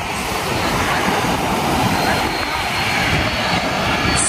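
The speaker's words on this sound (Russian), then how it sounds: "Ну что, ты готова, чтобы над тобой самолет пролетел?" A low-flying airliner roaring overhead at Nai Yang Beach in Phuket, a loud, dense jet rumble filling the whole stretch at close range.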